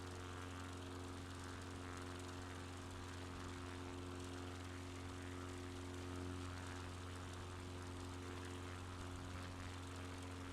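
A small propeller plane engine drones steadily over Maui in Microsoft Flight Simulator, a constant buzzing hum without pauses and with no voices.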